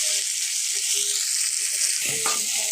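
Mrigal fish pieces frying in hot oil, a steady close sizzle running throughout with a brief clatter of stirring or turning near the end.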